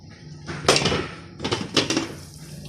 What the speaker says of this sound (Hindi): अब मैं प्रेशर कुकर को खोलती हूँ।